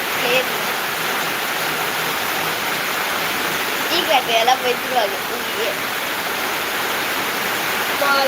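Rain falling steadily as a broad, constant hiss, with a few brief voices rising over it partway through.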